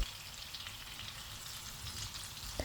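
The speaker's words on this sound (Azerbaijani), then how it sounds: "düzəltdiyim kotletləri də tavanın yarı hissəsində o üz bu üz qızardıram" Meat and root-vegetable cutlets searing on one half of a frying pan, a dense, even sizzle like light rain, steady and close, with a single soft knock near the end.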